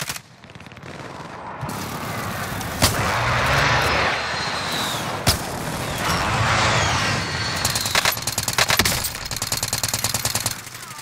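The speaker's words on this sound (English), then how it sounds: "Precision airstrike inbound." Precision airstrike in Call of Duty: Modern Warfare, aircraft roar sweeping overhead amid loud gunfire, with sharp blasts and a dense burst of rapid explosive cracks toward the end.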